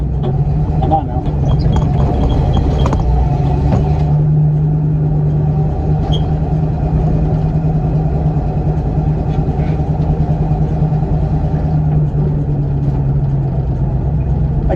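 A truck engine in first gear creeps slowly along, its low idle-like rumble droning loud and steady with a constant hum, overlaid by occasional rattles and clanks.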